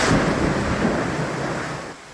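Heavy rain in Metro Manila pours in a dense, continuous hiss with a low rumble underneath, fading slightly toward the end.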